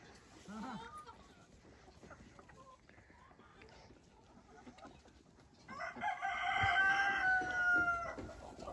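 A rooster in a backyard tent coop gives a loud, drawn-out crow in the second half, after a quieter stretch of low clucking from chickens with faint voices in the background.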